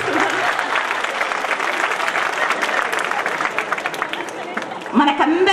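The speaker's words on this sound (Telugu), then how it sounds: "నేను వాడినందుకైనా చప్పట్లు కొట్టాలని ఆశిస్తున్నాను." A freshers party audience breaks into steady, dense applause that fills the room at moderate loudness, and near the end a voice cuts in over the clapping.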